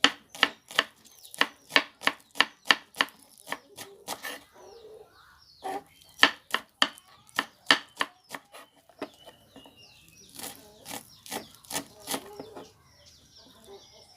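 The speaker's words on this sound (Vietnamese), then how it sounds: "Bây giờ mình sẽ đi xắt hành với ớt ha. Rồi bây giờ mình sẽ xắt nhuyễn nha các bạn." A knife chops shallots and chili peppers finely on a board for a vegan dish, firing off rapid runs of sharp, close taps with short pauses, joined by a few faint bird calls in the background.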